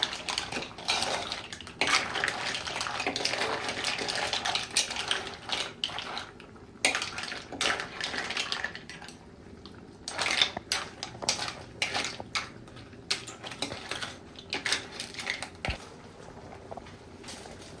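Butter garlic mixed seafood is stirred in a pan, with irregular scraping and clinking of a utensil against metal and faint sizzling, close and fairly busy throughout.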